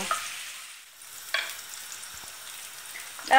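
Chopped onions fry uncovered in a pan, giving a quiet steady sizzle with a few brief stirring scrapes near the start and end.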